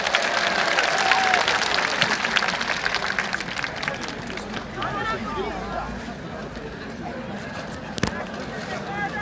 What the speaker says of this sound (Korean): 오늘 발언 맡으신 목사님 박수 한번 해드리세요